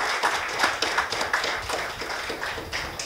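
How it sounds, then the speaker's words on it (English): An audience applauds a speaker at the end of a talk, with scattered, uneven claps of moderate loudness continuing steadily throughout and no one speaking over them. "give Dr. Abhay Shukla a big hand of applause"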